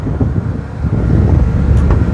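A boat engine runs at raised revs while powering two halogen lights, a steady low rumble with wind buffeting the microphone.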